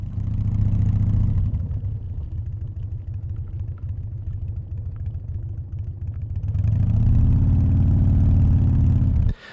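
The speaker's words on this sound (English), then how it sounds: "I pull the motorcycle into the rough paved lot." A motorcycle idling in a rough paved lot beside the Sears-Kay Ruins, a low, steady engine rumble close by that dips somewhat in the middle and then swells again before cutting off abruptly, with no talking.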